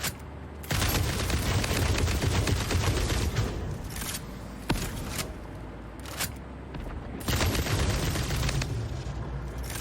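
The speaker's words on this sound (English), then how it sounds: "Pulls out homing gun." Homing gun firing in the video game Satisfactory, a dense burst of rapid shots that stops, resumes briefly, then swells again into sustained loud fire near the end, with no talking.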